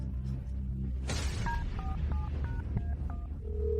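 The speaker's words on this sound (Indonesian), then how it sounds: "Aku akan telepon." A phone number being dialed, a quick run of about eight distinct two-tone keypad beeps at an even pace, following a short burst of noise and sitting over a low background rumble.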